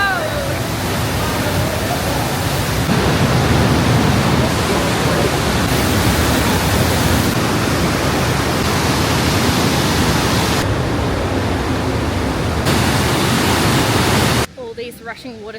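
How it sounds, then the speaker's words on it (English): Constant roaring rush of a waterfall in the Swiss Alps, loud and close, a dense broadband hiss that stays steady throughout before dropping off abruptly at the end. "These rushing water sounds"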